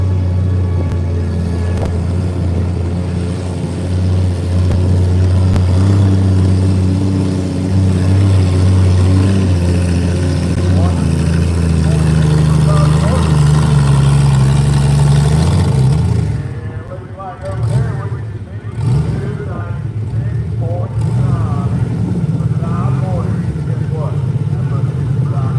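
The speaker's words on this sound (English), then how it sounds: "He has a new tractor this year." Antique tractor engine at a county fair antique tractor pull, a loud sustained rumbling drone that holds steady and then drops away, with the crowd and a voice talking over it.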